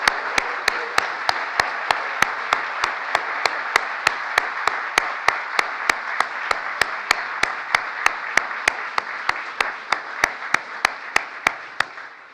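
An audience applauds at a presidential event marking the anniversary of the Inflation Reduction Act, a steady wash of clapping with sharp, evenly spaced beats running through it for about twelve seconds.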